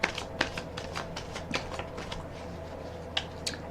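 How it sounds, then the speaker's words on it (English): A deck of tarot cards is riffle shuffled close up, a quick patter of flicking card edges with a few sharper snaps as the halves fall together, soft and without talk. "I'm going to put another rifle and shuffle on the deck"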